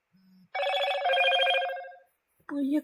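A telephone rings in The Sims 4: a short low beep, then a long bright trilling electronic ring lasting over a second, a gap, and another burst starting at the end, clear and close with no talk.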